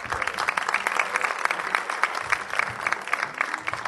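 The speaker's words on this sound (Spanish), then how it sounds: "nos saludamos con un aplauso al amigo" A studio audience claps to greet a guest on a live broadcast about UFO sightings over Uritorco, dense, lively applause at close range with brisk individual claps throughout.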